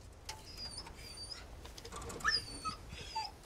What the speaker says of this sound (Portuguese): Ah, vamos salvar, né? Coitadinho do cachorro.